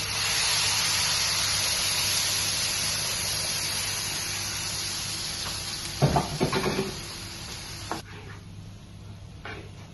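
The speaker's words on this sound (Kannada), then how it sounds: "ಈಗ ಚೆನ್ನಾಗಿ ನಾವು ಇದನ್ನು ಫ್ರೈ ಮಾಡಬೇಕು" Green peas masala with turmeric and ground spice paste frying in a pan: a steady sizzling hiss, with a short burst of stirring clatter in the middle and a few scrapes near the end.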